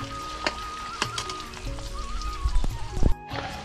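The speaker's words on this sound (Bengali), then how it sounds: "এই দেখো মাছগুলো একদম লাল লাল করে ভেজে নিচ্ছি" Tuna fish pieces fry in hot oil for a pickle, giving a steady close sizzle with scattered pops and crackles and a louder burst of spattering near the end.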